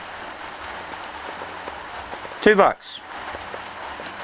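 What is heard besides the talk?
stainless steel bowl being handled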